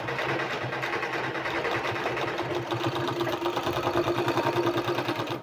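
A sewing machine runs steadily, stitching a folded fabric sleeve with a continuous mechanical whir and rapid needle rhythm. It stays loud and close throughout, with no voice.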